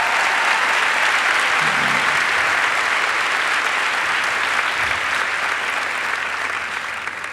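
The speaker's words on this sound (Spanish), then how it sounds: "Fuerte el aplauso para ustedes" Loud, sustained applause from a comedy special audience fills the room, a dense steady roar of clapping that holds for several seconds and tapers slightly at the end, with no voices over it.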